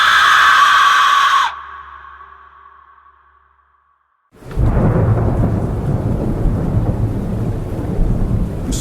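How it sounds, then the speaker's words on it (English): A thunderstorm at night: a loud rumble of thunder fades to near silence, then heavy rain with rolling thunder bursts in and holds steady, close and dense. No voices are heard. "Fat raindrops pelting the old shingles of my childhood home. Thunder rattling the windows"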